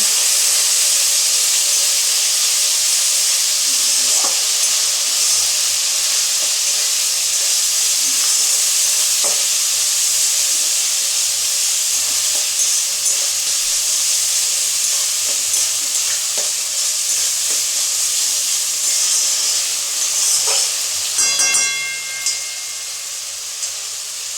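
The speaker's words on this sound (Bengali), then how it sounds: "দিয়ে দেবো লঙ্কার গুঁড়ো, ভালো করে কষিয়ে নেব।" Chilli powder and spices being fried and stirred in a pan, a steady close sizzle and hiss throughout with occasional scraping of the spoon, no talking.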